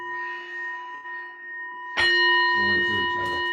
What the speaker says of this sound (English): Two bells to close itself.